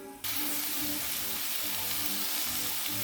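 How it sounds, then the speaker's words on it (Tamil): Onions dropped into hot oil with cumin seeds, for stuffed bitter gourd, burst into a loud, dense sizzle that starts abruptly and continues steadily, close and alone. "இப்போது வெங்காயம் சேர்த்துக்கலாம் நம்ம இதில்."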